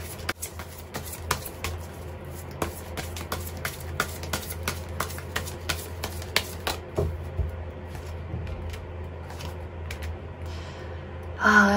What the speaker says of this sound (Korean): 8번을 뽑으신 분들을 위해서 조언 카드 뽑아보도록 하겠습니다